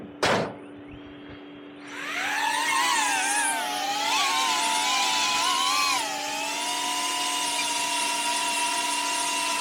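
Camera drone taking off, its motors spinning up from a click into a loud, whining buzz whose pitch wavers and then settles into a steady hover close by.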